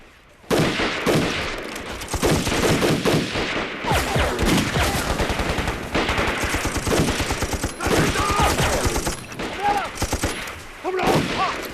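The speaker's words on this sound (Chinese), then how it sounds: "等我开枪之后，你再开枪。" Sustained gunfire from a war drama battle scene set during the anti-Japanese war, dense volleys of rifle and machine-gun shots crackling loudly and continuously for several seconds with brief pauses.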